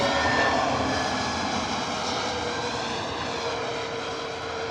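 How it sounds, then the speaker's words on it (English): An EasyJet airliner arriving from Dubrovnik at Bristol Airport in wet, stormy weather gives a loud, continuous engine roar with a whining tone, fading slowly with no voices. "EasyJet inbound from Dubrovnik."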